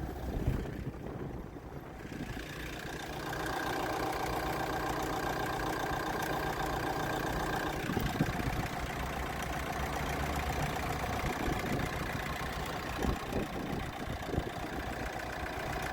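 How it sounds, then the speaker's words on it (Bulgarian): Used car with about 112,000 km on it idles steadily at a dealership, a continuous even engine rumble near and moderately loud, with faint clicks and shuffles and no speech. "Работи прекрасно моторче."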